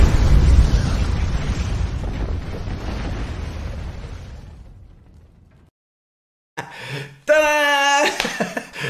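A show-introduction explosion effect: a loud broadband blast that rolls and fades over about five seconds into silence, after which a voice speaks.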